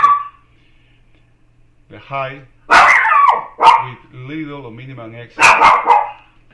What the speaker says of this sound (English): Excuse me, I need to manage that dog